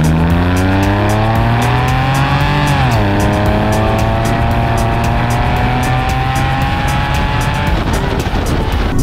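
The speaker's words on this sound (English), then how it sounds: "I love the fab speed exhaust sound because the fab speed exhaust makes this car rumble a little bit and it gives it that extra bass." A Porsche 993 fitted with a Fabspeed exhaust drives close by, its engine note loud and bassy as revs rise, dip around a gear change and climb again steadily, with road and wind noise throughout.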